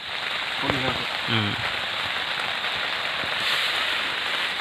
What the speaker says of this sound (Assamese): এতিয়া বৰষুণ দি আছে ইয়াতে ৰৈ আছোঁ